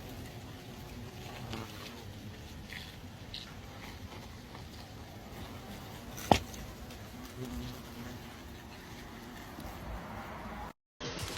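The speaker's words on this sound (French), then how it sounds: "je vais vous montrer un nid de frelon asiatique très mal placé, mais vraiment sur la piscine" Asian hornets buzz steadily around a nest sitting right above a swimming pool, a continuous close insect drone with one sharp click partway through.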